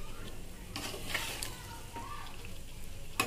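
A spoon stirs mutton curry as it fries in a pan, giving soft scraping strokes and light sizzling at a low level, with a few sharper clinks of metal.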